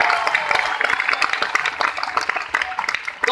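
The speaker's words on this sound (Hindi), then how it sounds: "तालियां बजानी हो तो जी खोल के बजाओ," A business meeting audience claps in dense, continuous applause, loud and close for a few seconds.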